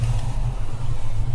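A racing car's engine in the Project Cars video game held under throttle on a bumpy track, a steady loud low drone that stays constant throughout with no clear rev changes, heard alone.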